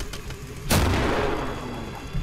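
Loud gunfire in the co-op shooter game Killing Floor, a sharp blast bursting in near the start and trailing off into a rumbling decay, with a smaller thud at the end.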